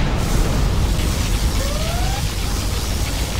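A particle cannon firing in Command & Conquer Generals Zero Hour, a dense roaring blast of noise lasting throughout, with a faint rising whine sweeping through the middle.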